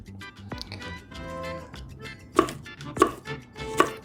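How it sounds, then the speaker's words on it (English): A knife splits vegetables down the middle on a cutting board while a salad is being prepared, giving three sharp chopping knocks in the second half after a quieter stretch. "I'm just gonna split them down the middle"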